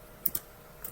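Computer keyboard keys tapped a handful of times in quick, light clicks while entering MySQL commands, close and fairly quiet against a faint room hiss.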